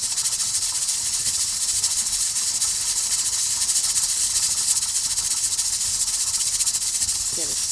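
A pressure canner on a kitchen stove releases a continuous, loud, even hiss of steam that holds steady from start to finish without breaks.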